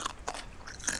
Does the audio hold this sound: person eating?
yes